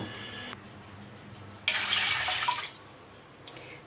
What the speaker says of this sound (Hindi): 2 गिलास पानी डाल देते हैं